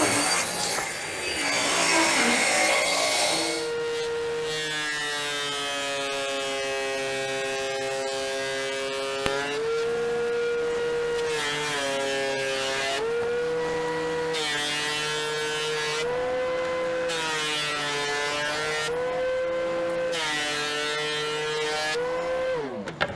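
A table saw spins up and trims wood for coasters, its motor a steady high whine broken by repeated short cutting passes that shift pitch as the blade bites, loud and close with no talking.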